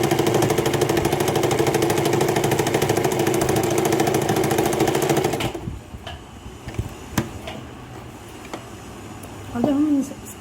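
A sewing machine stitches a pocket onto a palazzo salwar with a steady, rapid, close mechanical whir for about five seconds, then stops, leaving quiet handling noises.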